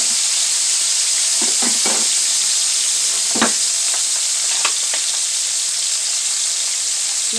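Turkey wings sear in a hot pan with soy sauce, giving a loud, continuous sizzle and hiss close up, broken by a few soft scrapes and taps from stirring, with no talking.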